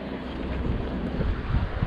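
Chilly December wind blows outdoors at an antique flea market in Lambertville, New Jersey. It makes a steady, rough rush of buffeting across the microphone, loud and unbroken throughout, with no voices heard.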